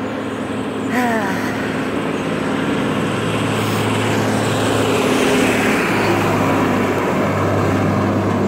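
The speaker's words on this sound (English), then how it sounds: "I'm also along a road again, so there's going to be traffic noise" Road traffic passing a roadside walker at sunrise on the Camino between Villafranca del Bierzo and Las Herrerias, a loud continuous rushing roar of vehicles that swells as one approaches and goes by, with wind noise.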